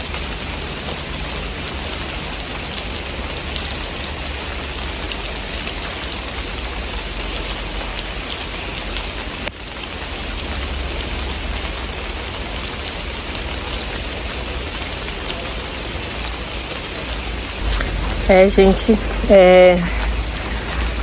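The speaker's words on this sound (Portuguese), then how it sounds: "parou um pouquinho a chuva, né? Diminuiu, na verdade, o volume da chuva" Heavy rain pours steadily at the Amazon museum in Manaus, a dense, continuous hiss with no pauses, and a person begins speaking near the end.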